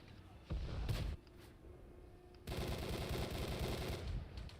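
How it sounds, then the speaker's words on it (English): Heavy autocannon fire from an MBT-80 tank in World of Tanks Modern Armor comes in two loud, sustained bursts, a short one first, then a longer rapid stream after a brief lull. "I love the sound of the autocannon on the MBT 80 70."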